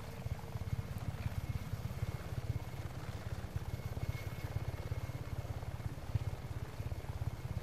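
A helicopter in the video game Just Cause 3 chops steadily throughout, its rotor beating in a fast, even pulse at moderate volume with no voices over it.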